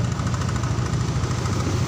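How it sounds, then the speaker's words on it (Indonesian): The engine of a Yamaha Mio motorcycle, just back from carburetor work, idles close by with a smooth, steady, even putter and no talk. "motornya masih, suaranya masih bagus ya, masih lembut ya"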